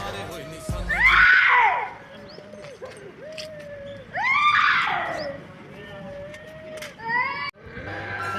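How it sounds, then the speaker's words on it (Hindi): A woman screams loudly and repeatedly at Bawan Kund in Ujjain, two long piercing cries with shorter calls between, heard over outdoor ambience with other voices nearby. "ये आंटी जी बहुत ज़ोर से चिल्ला रही थी"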